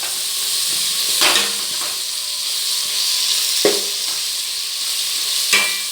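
Mint leaves fry in hot oil for a jackfruit biryani, a bright continuous sizzle broken by three or four sharp stirring scrapes spaced a couple of seconds apart.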